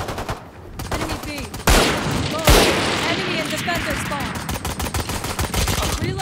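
Rapid bursts of gunfire in the shooter game Valorant, loud clustered shots and cracks with a voice talking over the action.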